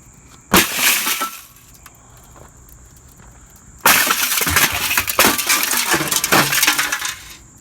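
Glass shattering during scrap metal processing at a compound: a short crash and tinkle, a quiet pause, then a longer burst of breaking and clinking shards, close and loud, with no speech.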